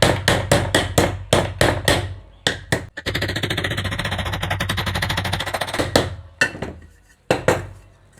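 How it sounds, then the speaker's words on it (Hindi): Sharp metallic hammer blows drive a bearing into a ceiling fan, struck at its outer edge: quick close repeated strikes in bursts, then a dense rattling stretch of rapid taps, ending in a few scattered single hits. "कभी भी कोई बैरिंग ठोकते हैं इस तरह से तो आपको किनारे वाले हिस्से पे चोट मारना है"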